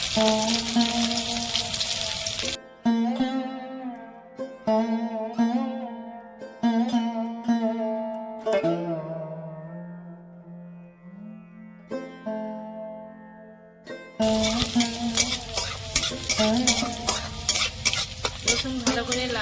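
Nigella seeds and chopped garlic fry in oil for a Bengali sim bata, with a steady sizzle interrupted by a stretch of stirring and spoon scrapes before the loud crackle returns.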